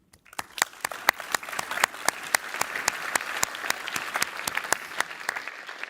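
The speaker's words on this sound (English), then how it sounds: "this is your applause from PackOn 2023" Audience applause at a conference, a dense crowd of hands clapping steadily for several seconds at close range with no voices over it.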